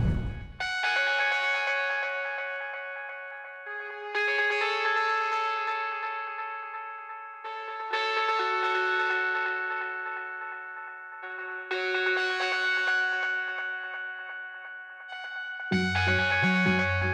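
Techno built from long, echoing bell-like synth chords repeating every few seconds, soaked in reverb and delay, with a distorted kick entering near the end; no voices.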